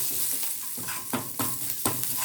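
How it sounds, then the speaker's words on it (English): Chana dal, curry leaves and hing frying in hot oil while being stirred, a continuous sizzle broken by several scraping stirs at regular intervals, close and clear with no talking. "half a teaspoon of chana dal, few curry leaves, quarter teaspoon of hing. Fry well."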